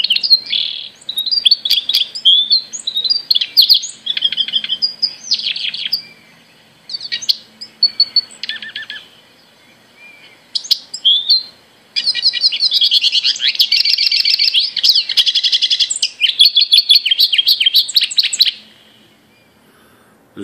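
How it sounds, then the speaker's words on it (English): Lawrence's goldfinch song played back through a bird guide app: bright, high chirps and twittering phrases in bursts, building into a longer continuous warbling run, clear and close with no talking. "This is a Lawrence's goldfinch."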